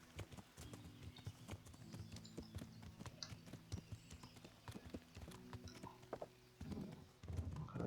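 Horse hooves clip-clop steadily on the ground as a rider travels in the medieval game Kingdom Come: Deliverance, with a continuous rhythmic gait over a faint ambient background.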